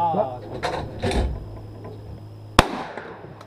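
A single sharp gunshot during a team-building shooting exercise, loud and abrupt, with a brief tail, following moments of people talking nearby.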